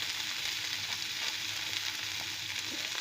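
Onion and carrot sauté in a pan with a dense, even sizzle that holds steady from start to end, close and continuous with no voices.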